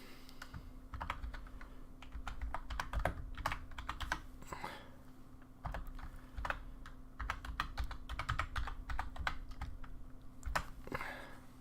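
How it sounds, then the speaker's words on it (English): Fast typing on a computer keyboard while editing in Shotcut, with irregular bursts of sharp clicking keystrokes, close and steady over a low electrical hum, with no talking. "I know you guys can't see what I'm actually typing."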